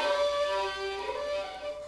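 Thin, steady violin harmonic, bowed slightly off the correct spot on the string so it rings without fully popping out, sustained faintly on its own.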